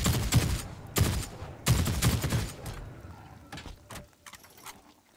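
Hip-fired gunshots in The Cycle Frontier crack out in short bursts of a few rapid rounds, close and punchy, followed by quieter clicks and handling clatter as the firing tapers off.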